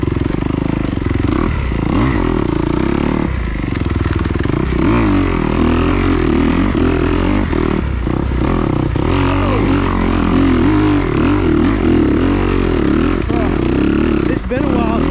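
A 2021 Kawasaki KX250XC dirt bike rides a rough trail at HMT Tornado, its engine droning loud and close throughout with revs rising and falling, plus clatter from the terrain and a rider talking over it.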